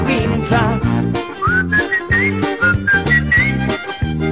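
A person whistles a lilting tune from an Italian song, clear and close, with bright melodic phrases and short slides between notes, accompanied by a backing of rhythmic instrumental chords.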